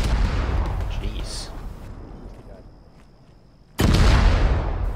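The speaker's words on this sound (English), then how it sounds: "that's mortars" Mortar shells burst in the ARMA 3 military game, a heavy boom opening, the rumble fading over a few seconds, then a second loud close blast near the end, with voices talking around them.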